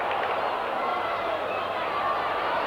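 Crowd of over 9,000 at a 1986 SANFL Australian rules football match between Port Adelaide and West Torrens, a steady broad roar of many voices filling the stadium, dense and continuous throughout with no gaps.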